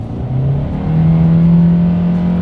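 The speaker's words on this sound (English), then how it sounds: "let's put the new Accent here to the test, and let's see how quickly we can get this one here up to speed" A 2021 Hyundai Accent accelerating hard, its small engine droning and climbing steadily in pitch as the revs wind out, loud and close from inside the car with no speech.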